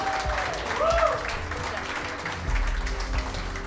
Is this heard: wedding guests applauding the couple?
yes